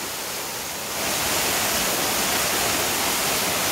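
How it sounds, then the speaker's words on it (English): Three Pond Falls in St. Vincent roars as a steady, loud broadband rush of falling water that swells after the first second and then holds close and unbroken, with no voices over it. "You're here in the waterfall!"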